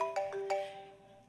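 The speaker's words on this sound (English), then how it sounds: "Honey, I'm pretty sure that's your phone." A mobile phone rings indoors with a short tonal ringtone, bright repeated chime notes over a sustained tone, fairly close and fading out, with no talking over it.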